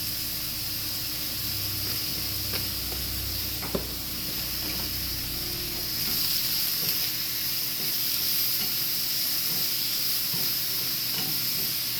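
Onion powder and garlic powder seasoning toasting in a hot pan gives a steady, even sizzling hiss that runs the whole time at moderate level, with a few faint clicks and no voices.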